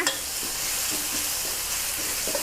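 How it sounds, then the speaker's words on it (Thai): Pounded chili and garlic stir-frying in a pan for a Thai glass noodle dish with minced pork and basil, a bright steady sizzle broken by soft scraping stirs, close and without talk. "ผัดพริกกับกระเทียมให้หอมก่อนนะ"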